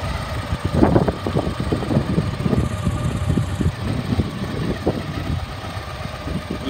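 A 2016 Victory Magnum, an ex-police motorcycle, idles steadily at close range with a low, loping engine rumble and no talk.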